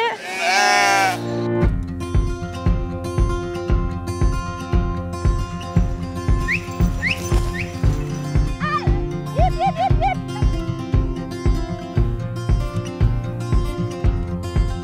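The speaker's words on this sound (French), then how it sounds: "on va passer avec des moutons" A flock of sheep bleats during a transhumance through Nantes, with a loud bleat at the start and scattered fainter calls after, over steady rhythmic music.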